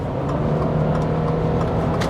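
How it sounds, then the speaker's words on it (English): A 2024 Subaru Crosstrek with a CVT accelerates. The engine gives a loud, steady drone that holds evenly throughout, heard from inside the car. "the CVT, the engine is loud under acceleration"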